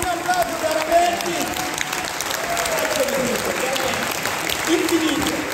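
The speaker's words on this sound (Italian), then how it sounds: "Un applauso, no, un applauso veramente" Steady applause from an audience at a school music event in Tor Bella Monaca, a dense, continuous wash of clapping with someone speaking over it.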